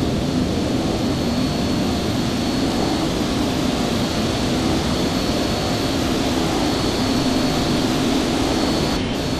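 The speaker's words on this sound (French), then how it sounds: "Donc je vais procéder à l'allumage des moteurs." Boeing 737 jet engines starting up in the Flight Simulator X game, on a Paris Orly to Nice flight: a loud, steady broadband roar with a high whine, sustained throughout and with no talk.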